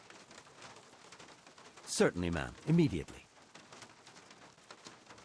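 Steady rain patters in the Syberia adventure game as a soft, constant hiss, with a short burst of spoken dialogue in the middle riding over it.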